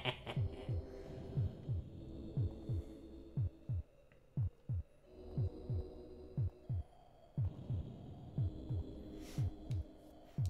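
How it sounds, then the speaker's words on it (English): A steady, constant heartbeat from the Amiga god game Populous, soft paired thumps repeating at an even pace under a low hum, with no talking. "Nice constant heartbeat there."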